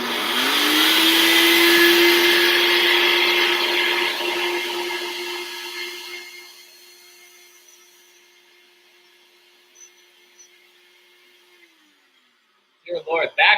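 A coffee grinder runs loud and steady for about six seconds, then winds down to a quieter hum as the beans run out, ending after roughly twelve seconds, followed by a few sharp clicks and knocks.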